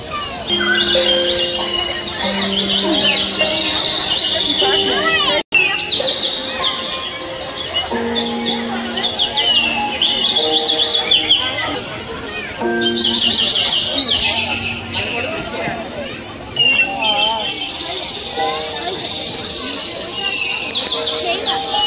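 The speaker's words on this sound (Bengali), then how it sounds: "খাঁচার মধ্যে দেখো একটা পাখি বন্দি করা আছে," A caged bird chirps in bright, repeated tweets through a busy outdoor scene, with people talking nearby throughout.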